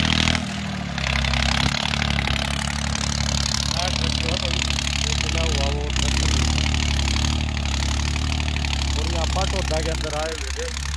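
New Holland 3630 Super Plus tractor engine working under a load test beside a highway in a village, a steady loud low rumble throughout with people talking over it.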